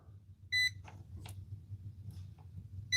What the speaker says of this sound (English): at least it beeps as soon as we hit the voltage